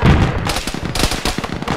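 Autocannon or shield gun fire in a video game: a loud rapid burst of heavy shots in a steady rhythm, close and punchy, following an initial booming blast.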